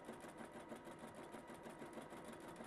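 A sewing machine running steadily through free-motion machine quilting on a quilted lap piece, a fast continuous whirring stitch rhythm heard close and alone with no talk.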